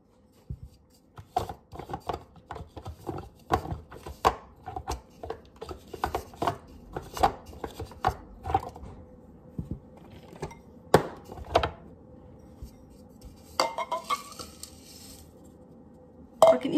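Dried potato peels are crumbled by hand into a bowl, giving a run of dry, brittle crackles and crisp snaps. The sounds are close and irregular and come in quick bursts, with no talking.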